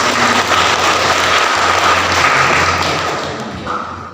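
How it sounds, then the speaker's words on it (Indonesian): A church congregation applauds during a Sunday service in a dense, steady wash of clapping that swells slightly and then gradually fades toward the end. "Kita beri sekali lagi aplaus untuk Bapak Ibu."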